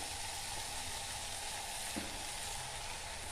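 Chili powder, turmeric and coriander powder sautéing in oil in a pan for a drumstick roast, a constant close sizzle and hiss with a faint stir sound, and no voices.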